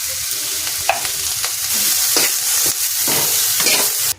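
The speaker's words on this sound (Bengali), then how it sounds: "এবার এই তেলেতেই বেগুনগুলো নাড়াচাড়া করে দেবো" Eggplant pieces frying in oil with turmeric are stirred in a pan, a steady close sizzle with repeated scraping strokes of the spoon throughout.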